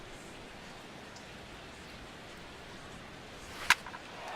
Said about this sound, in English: And this rain is intensifying now. This is as hard as it's come down all night.